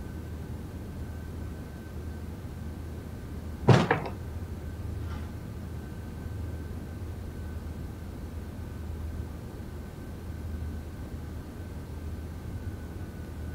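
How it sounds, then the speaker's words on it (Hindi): A door closes in a home during a domestic drama, a single sharp knock near four seconds followed by a faint second tap, then a quiet room hum for the rest. "दरवाजा बंद।"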